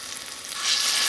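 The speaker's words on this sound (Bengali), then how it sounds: "এবার ডালের বড়া তৈরি করে নেবো এদিকে তেল গরম হয়ে গেছে" Steady hissing sizzle of lentil fritters frying in hot oil in an iron wok, growing slightly louder and brighter partway through, with no voices.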